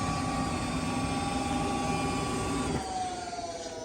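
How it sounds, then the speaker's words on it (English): Gas furnace with its blower motor running, a steady, loud whooshing drone with a faint tonal hum that drops and softens abruptly near the end as the unit is cut off. "your blower motor is going to come on, and it's going to push heat into the house"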